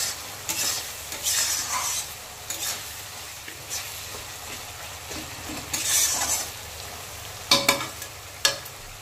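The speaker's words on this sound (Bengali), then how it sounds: "এবার আমি এটা আরও 2-4 মিনিট ঢেকে ঢেকে কষাবো।" Cabbage curry with fish head is stirred in spiced oil, with a continuous soft sizzle under repeated scraping strokes and a couple of sharp utensil clinks toward the end, and no one speaking.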